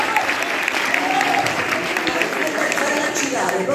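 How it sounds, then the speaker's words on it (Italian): Audience applause in a school hall at a Liceo Galilei peace torch relay event, dense steady clapping throughout with some voices mixed in. "Fatemi un applauso"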